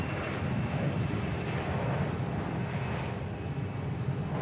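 A Fokker F100 jet airliner takes off at Perth Airport, its engines giving a steady, loud broadband roar that fills the whole stretch without letup.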